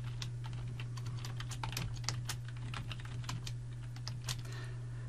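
Fingers tap a computer keyboard in quick, uneven bursts of close, crisp keystrokes over a steady low electrical hum, with no voices.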